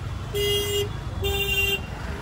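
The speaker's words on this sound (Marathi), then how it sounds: "इथे ट्रॅफिक बघा, मजबूत तुफान ट्रॅफिक आहे" Busy city street near a railway station with traffic droning in the background and two sustained car horn blasts in a row, fairly close, each lasting about half a second.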